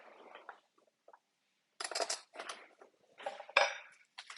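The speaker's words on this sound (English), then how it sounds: "I'm just going to mix this around." Almonds, olives and dill tossed in a bowl, giving scattered soft clinks and rattling scrapes in short bursts separated by near silence, close and quiet.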